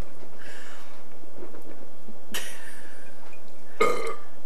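Two loud burps, one in the middle and one near the end, separated by quiet with faint background noise.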